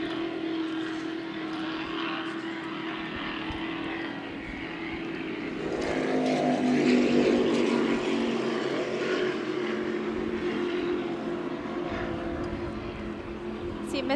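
The racing powerboat Miss Geico roars past the start-finish boat at the St. Clair River Classic, with a loud engine drone that swells to a peak midway and then holds steady.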